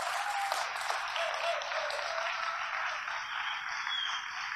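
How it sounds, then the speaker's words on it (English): An audience claps in sustained applause at a Global Donut Day opening event, an even, dense wash of hands with no voices on top. "please welcome your international brothers and sisters with a big applause"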